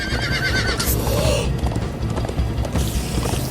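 Horses gallop with rapid clip-clop hoofbeats and loud whinnies in the Minecraft Story Mode video game, the rhythm running steadily under busy game sound throughout.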